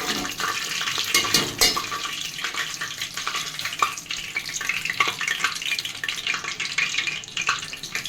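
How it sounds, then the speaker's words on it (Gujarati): Masala spices frying in very hot oil while being stirred, a steady close crackling sizzle with scraping stir sounds running throughout, no talking. "હવે આપણે નાખી દઈએ મસાલો। મસાલો નાખીને હલાવવાનો"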